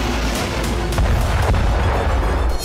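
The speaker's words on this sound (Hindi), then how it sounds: "ओडेसा में पुतिन की मिसाइल ब्रिगेड इस्कंदर मिसाइलों से कहर बरपा रही।" Iskander missile strikes in Odesa during wartime, heavy booming blasts and rumbling, with a sharper thud partway through under continuous loud low noise.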